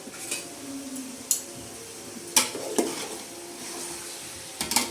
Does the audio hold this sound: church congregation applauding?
no